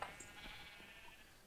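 Sheep bleating in the video game Minecraft, a faint wavering bleat at the start followed by softer trailing bleats over a low, quiet background.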